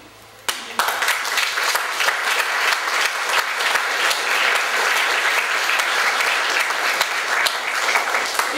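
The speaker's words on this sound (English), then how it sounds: "let's give a big round of applause to each and every one of you who is here tonight" After a brief quiet moment, an awards-ceremony audience bursts into sustained applause at a summer festival, dense steady clapping holding at full strength for the rest of the stretch.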